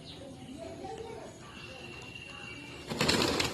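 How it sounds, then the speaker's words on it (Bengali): Pigeons coo softly in a calm morning setting while feeding, with low murmuring calls through the clip and a louder burst of flapping wings near the end as they take off. "আর ধৈর্য ধরলো না বসতে তাই চলে যাচ্ছে পায়রাগুলো"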